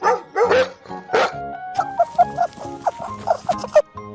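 A dog barks in a quick series of sharp, loud woofs, a few spaced calls followed by a steady run of repeated barks, close and alone without talk.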